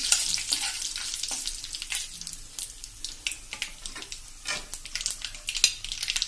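Curry leaves and a pinch of asafoetida crackle and sizzle in hot oil for a South Indian sambar, with scattered scraping stir strokes through a steady close frying hiss; no voices.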